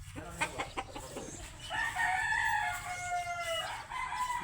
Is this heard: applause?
no